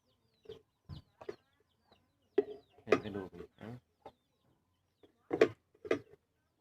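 Chickens and chicks calling close by, with short bursts of clucks and cheeps spaced irregularly between brief quiet gaps and no talking.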